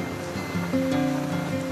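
Ocean surf on Varre beach on the Konkan coast, a continuous broad wash of waves with a steady tonal hum running over it, no voices.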